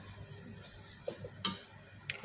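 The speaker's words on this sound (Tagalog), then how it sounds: "Haluin natin ulit." Food being stirred in a frying pan while cooking Arabic fatteh, a soft steady sizzle with a few light scraping clicks of a utensil against the pan, quiet and close.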